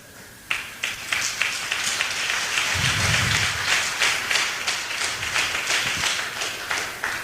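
An audience at an Amway business event applauds a speaker's platinum achievement, sustained dense clapping with sharp individual claps standing out, loud and continuous.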